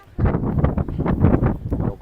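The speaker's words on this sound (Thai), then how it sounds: "ลมแรงมากนะครับ" Strong wind at a riverside skywalk where the Khwae Yai and Khwae Noi rivers meet, buffeting the microphone in loud, rumbling gusts that surge and fade continuously for about two seconds.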